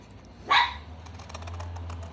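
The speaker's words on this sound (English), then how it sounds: "He's looking at the fire and barking, guys." A Chihuahua gives a single sharp bark at a fire, loud and close, followed by a low steady hum with faint scattered clicks.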